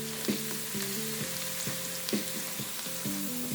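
Curry powder goes into garlic and ginger already frying in a pan, giving a steady close-up sizzle. A low stepped tonal hum runs underneath, with a few brief clicks.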